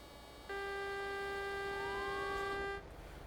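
A truck horn in the online driving game TruckersMP sounds one steady, loud, tonal blast of a little over two seconds, with a slight pitch rise near its end and no talk over it.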